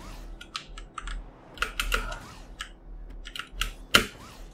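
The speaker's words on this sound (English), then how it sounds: "There's probably going to be a lot of noise of me smashing my keyboard, like the space bar a lot." A computer keyboard is hammered during a DEADCORE gaming session, irregular bursts of clacking keys with heavy space-bar hits, one sharp loud strike near the end, close and alone.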